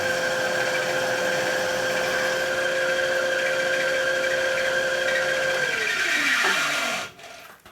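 Steady, loud mechanical whine of a drill boring a hole in metal on a 1997 Harley Evolution 80ci engine case, running continuously, its pitch dropping and strained near the end before cutting off abruptly.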